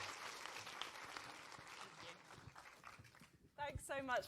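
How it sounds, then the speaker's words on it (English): Audience applause for Alice and Sarah at a community awards finale, a moderate clatter of clapping that fades away before a speaker begins talking near the end. "give them another round of applause"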